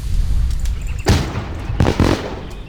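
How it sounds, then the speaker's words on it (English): Fireworks in the video game My Summer Car, with two sharp bursts about a second apart followed by crackling pops, set over a steady low background rumble. "Fireworks?"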